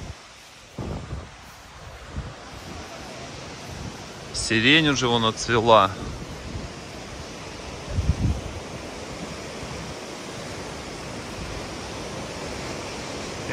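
A broad, steady roar of the full, rushing Mzymta mountain river near Sochi fills the background, with a person briefly speaking over it partway through.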